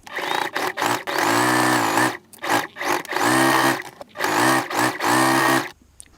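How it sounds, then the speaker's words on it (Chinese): A sewing machine stitches closed an opening along the edge of a striped top made from an old mini skirt, running in loud close bursts of rapid whirring with short stops between them. "就沿着这个边把开口缝合起来"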